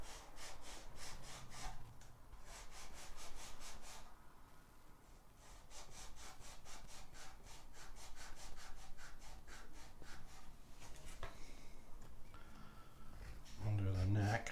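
Sandpaper rubbed by hand along the edge of a wooden guitar body during antiquing, giving repeated rasping back-and-forth strokes at close range, steady for most of the stretch and broken by a few pauses.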